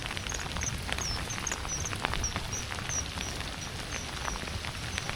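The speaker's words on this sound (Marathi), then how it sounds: "अरे यार हा पाऊस" Steady rain falling outdoors during a fishing trip, a constant soft wash of patter at moderate level, with faint bird chirps above it.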